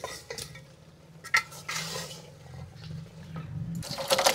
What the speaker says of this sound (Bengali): ভেজে রাখা আলুটা দিয়ে দি তাহলে